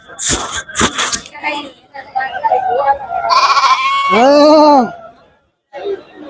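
Goats bleat loudly and close by, including one long wavering cry, amid bustling crowd chatter and voices at the busy outdoor Kunnathur goat market.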